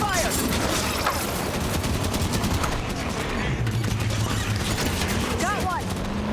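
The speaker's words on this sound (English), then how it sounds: "Gunner is taking fire!" Heavy gunfire rattles through a Halo-style shooter battle, dense bursts layered with explosions and vehicle noise, loud and continuous across the scene while voices shout over it.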